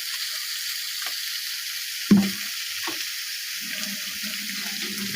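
Chillies, cumin and chopped onion fry in a pan with a steady bright hiss, close and continuous, with a soft knock partway through and no talking.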